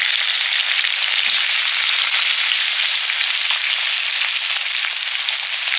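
Chopped onions fry in hot oil with dried chilli, bay leaf and whole cumin, giving a dense, bright, continuous sizzle that stays loud and close with no voices.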